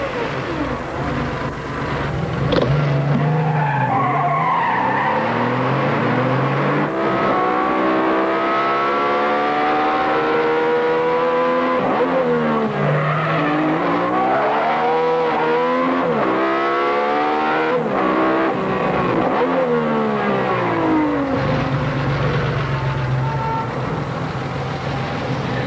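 A turbocharged car accelerates hard with rising, wavering engine whines, then its tires squeal in long, sweeping skids, loud and close throughout.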